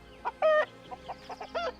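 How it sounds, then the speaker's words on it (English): A chicken in the survival video game Hold Your Own gives a series of clear, close clucks in short bursts over a quiet background. "Oh, I hear a chicken."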